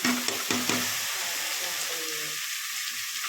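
Radish leaves are tossed into frying onion, giving a loud, steady sizzle with a few stirring knocks at first. The frying then settles into a continuous hiss.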